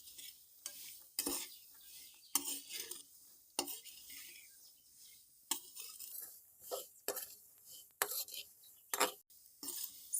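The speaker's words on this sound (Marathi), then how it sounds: "आता गॅसची फ्लेम बारीक करून आपल्याला हे शेंगदाणे टाकून घ्यायचे आहे यात कढईमध्येच आणि चांगले परतावून घ्यायचे आहे मिठामध्येच" Roasted peanuts tossed in salt inside a kadhai over low flame produce repeated gritty scraping and rattling strokes of a spatula, irregular bursts separated by quieter gaps, close and fairly soft.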